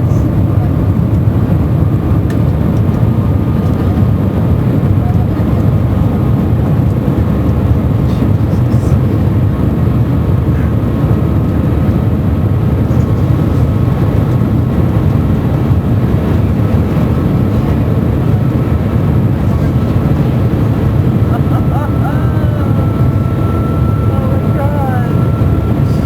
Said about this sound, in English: I'm on the bullet train going to the airport in Shanghai to go home.